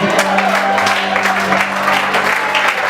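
A church congregation bursts into loud, sustained applause and cheering in praise of Jesus during a Sunday worship service, with dense clapping and crowd voices filling the room throughout.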